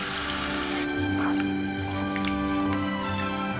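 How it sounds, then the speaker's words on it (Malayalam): Second coconut milk poured from a single coconut into a Kottayam-style chicken stew, a close, steady liquid trickle and splash into the pot, with faint dripping and a low background hum and no talking. "ഒരു തേങ്ങയുടെ 2ാം പാലിൽ ഒഴിച്ചു കൊടുക്കുകയാണ്"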